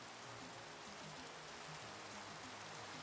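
Minecraft rain falling in a hardcore survival game, a steady, even hiss of rainfall with no breaks, faint and continuous with a low rumble beneath it.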